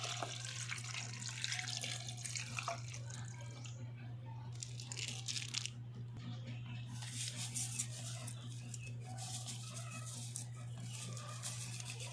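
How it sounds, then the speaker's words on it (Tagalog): Water runs and splashes into a cooking pot for paksiw in bursts over a steady electrical hum, with brief pauses between pours. "tapos lagyan natin ng tubig."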